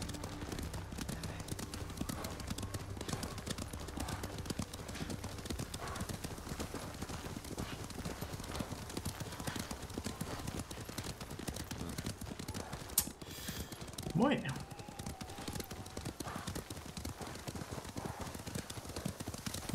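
Horses' hooves clip-clop in a steady, fast rhythm throughout a Ghost of Tsushima game scene, close and continuous, with a brief snort or whinny near the middle.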